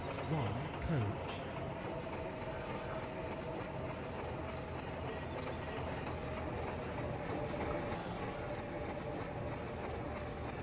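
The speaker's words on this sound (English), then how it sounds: "This train is formed of one coach." A one-coach railcar in a video game rolls along at speed, with a constant loud rumble and hiss of wheels on track and faint rhythmic clacking throughout.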